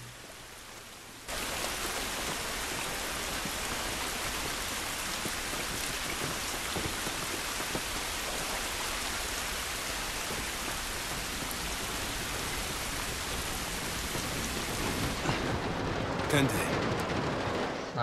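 Heavy rain pours steadily in the video game The Last of Us Remastered, a dense, continuous hiss that swells in abruptly after a quieter opening and holds at a constant loud level throughout.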